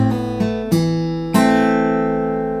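On an acoustic guitar, a Travis-picking lick sounds bright plucked notes, including strings two and three struck together, with three clear attacks ringing out over a sustained bass.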